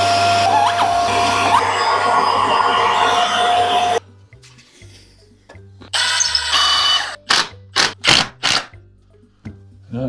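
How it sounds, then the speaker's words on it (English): A Hoover vacuum cleaner runs steadily and loudly near a staircase at home, then cuts off, followed by short bursts and bumps as it is switched and moved around. "let's grab the hoover."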